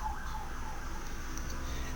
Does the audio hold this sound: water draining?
no